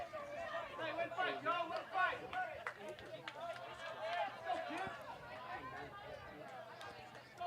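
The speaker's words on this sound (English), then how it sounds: "As you can hear, a lively crowd here at Paul J. WATAHA Complex" Lively crowd at a high school baseball state championship semifinal at Paul J. Wataha Complex, a continuous close babble of many voices chattering and calling out, with scattered shouts throughout.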